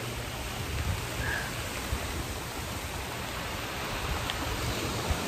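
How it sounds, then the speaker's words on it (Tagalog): Rain falls at a beach campsite on Saipan as a steady, even hiss that fills the scene, loud and continuous, with no one speaking. "Inaabot tayo ng ulan dito."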